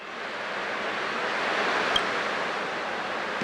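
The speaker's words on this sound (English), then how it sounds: "I can still clearly hear the sound of the waves." Ocean waves wash steadily in Honkai Star Rail, a continuous broad surf roar of even, moderate loudness with no speech over it.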